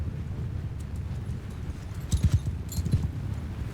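Horses in the medieval battle game Mount & Blade II Bannerlord, with a short run of hoof clip-clops rising out of a windy, rumbling battlefield background, moderately close.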